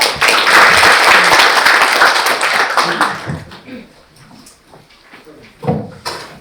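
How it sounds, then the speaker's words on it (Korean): An audience at an education forum claps in welcome for a speaker, a loud burst that fades after about three seconds, followed by a few scattered taps and handling noises. "박수로 맞이해 주세요."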